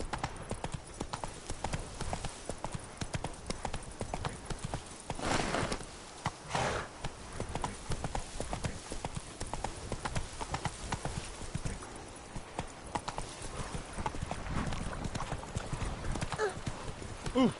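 A video game horse gallops with rapid, steady clip-clop hoofbeats close up, with a brief whinny partway through and someone talking over it.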